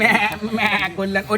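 A person's voice imitates a goat's wavering bleat, a short nasal call up close.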